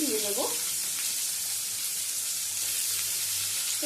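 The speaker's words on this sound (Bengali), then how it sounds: "উচ্ছেগুলো দিয়ে কিছুটা ভেজে নেব" Bitter gourd pieces frying in a spice tempering, a dense, steady sizzle running throughout, with a short faint voice-like sound at the start.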